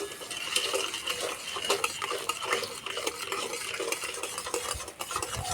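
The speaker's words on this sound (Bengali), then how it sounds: "এইভাবে নেড়ে চেড়ে চিনিটা গলিয়ে নেব।" A utensil stirs sugar in a pan until it melts, giving continuous close scraping and clinking against the metal with a faint sizzle underneath. There is no speech.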